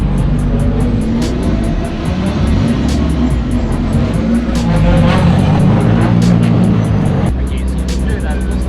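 Race cars roll around a track on a parade lap, a steady loud engine drone with occasional passing surges, heard from close by; people talk over it.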